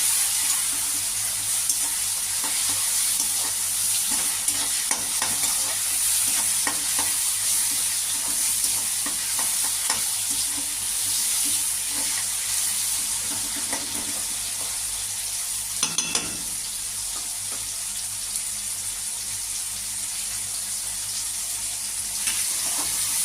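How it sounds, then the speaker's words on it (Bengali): Tomatoes fry down in a pan for a spicy pabda fish curry, a constant close sizzle broken by occasional stirring scrapes and one louder clatter midway, with no speech. "টমেটোগুলো আমার ভাজা ভাজা হয়ে গেছে একদম গলে গলে গেছে টমেটোগুলো"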